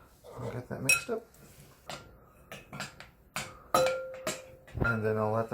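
Vegan pumpkin oatmeal with coconut milk and water gets stirred in a pot, giving scattered clinks and scrapes of a utensil against the pan between short pauses, close and fairly quiet.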